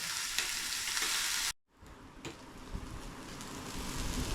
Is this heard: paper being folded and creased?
no